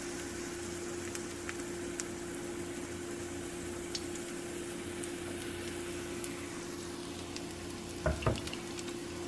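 Pancake batter fries in hot oil with a close, steady hiss and light crackle, a constant hum underneath and a brief clatter near the end.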